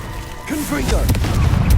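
A Confringo fire-blast spell explodes in Hogwarts Legacy, a booming burst with low rumble and sharp crackling pops, loud and near, growing heavier toward the end.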